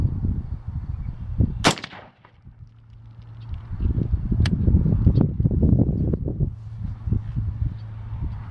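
Rifle shots from a 6mm ARC firing 103 grain ELD-X ammunition at an outdoor range: one sharp, loud crack near the start, then a fainter second report, with wind noise buffeting the microphone throughout.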